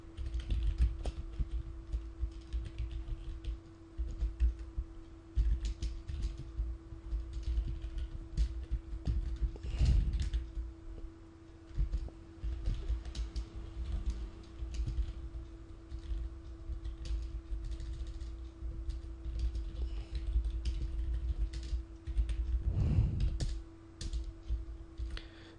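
Code is typed on a computer keyboard in a long run of quick key clicks with short pauses and a steady low hum underneath, fairly close and without any voice.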